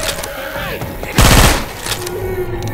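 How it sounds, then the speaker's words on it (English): Machine gun fire in Left 4 Dead 2 erupts in a loud, rapid burst lasting about a third of a second, standing out sharply against the game's constant background ambience. "Machine gun"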